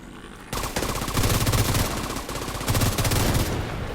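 Automatic gunfire in a shooting game: after a brief quiet lead-in, rapid machine-gun bursts rattle steadily and loudly in close, dense volleys, with no voices.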